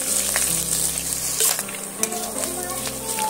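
Crushed garlic and three green chillies sizzle steadily in hot oil, with occasional scraping clicks of a spoon stirring them around the pan, loud and close throughout.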